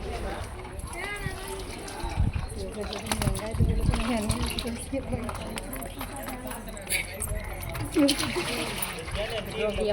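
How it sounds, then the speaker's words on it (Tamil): Five litres of refined oil are poured into a large pot for a big batch of sambar rice, a continuous splashing, trickling pour heard under ongoing speech and background bustle. "அதுக்கு அஞ்சு லிட்டர் ரீஃபண்ட் ஆயில் ஊற்ற போகிறோங்க"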